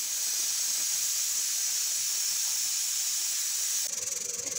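A pressure cooker cooking kidney beans (rajma) shrieks its whistle continuously, a loud sustained high hiss of escaping steam that shifts to a pulsing rattle near the end.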